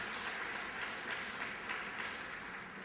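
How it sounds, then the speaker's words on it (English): A women's empowerment workshop audience gives a round of applause, a short, steady, fairly faint patter of clapping from a room of people. "I think you should give her a round of applause."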